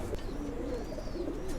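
Domestic pigeons coo in soft, low, rolling calls, a couple of overlapping coos close by with a faint background hum and no speech.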